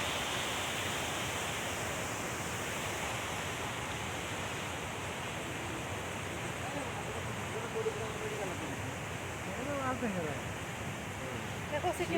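A forest waterfall pours into a river by a hill path, giving a steady broadband rush of flowing water that fills the whole stretch, with faint voices coming in near the end.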